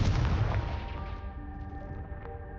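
A deep booming Confringo blast spell explosion from the video game Hogwarts Legacy, loud at first, then a rumbling decay with a lingering ringing tail, with no one talking.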